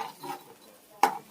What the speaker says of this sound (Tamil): எல்லாத்துலேயும் படுற மாதிரி நல்லா கிளறி விட்டு முட்டை பொரிக்கிற மாதிரி பொரிச்சிடுங்க